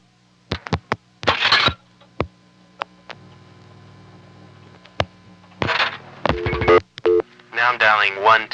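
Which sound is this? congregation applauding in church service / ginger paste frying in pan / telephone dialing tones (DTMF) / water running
telephone dialing tones (DTMF)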